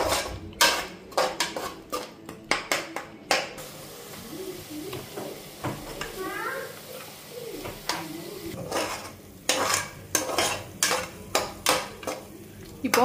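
Tomato paste sautéed in a pan for a vegetable bottle-gourd biryani, with a soft sizzle under repeated loud clanks and scrapes of a spoon against the metal pan, arriving in irregular bursts.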